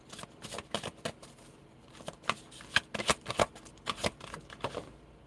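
Oversized tarot cards being shuffled by hand, a close run of crisp riffling bursts and soft slaps coming in irregular clusters with brief pauses between.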